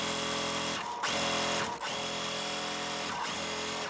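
Sewing machine stitching quilt block pieces, a loud close whirring drone that runs in sustained bursts with a few brief pauses and pitch dips between seams, with no talking.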